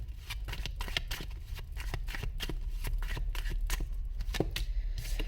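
Tarot cards being shuffled over and over, a steady run of close, crisp riffling flicks and soft slaps, continuous and fairly quiet with no talking.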